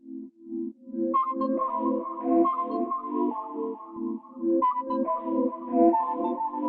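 Soft plucked sine synth notes with a warm, saturated, slightly gritty tone play a bouncy melodic pattern, tails ringing out in reverb.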